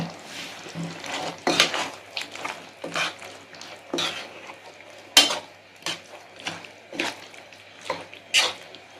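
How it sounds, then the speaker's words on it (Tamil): Metal utensil scraping and clinking against a pot of chicken gravy in irregular strokes, with soft wet stirring sounds in between, close by and moderately loud. "நல்லா கிளறி விடுங்க"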